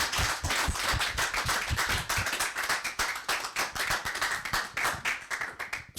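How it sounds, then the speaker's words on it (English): Hands clap in applause for the last team at a coding bootcamp graduation showcase, a small group clapping steadily and close for several seconds with no talk over it. "Final round of applause for the final team today,"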